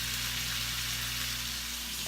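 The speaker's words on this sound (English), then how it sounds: "you want to get all your bacon and your bologna cooking" Bacon and bologna frying together in a pan give a steady, even sizzling hiss, heard alone over a faint low hum.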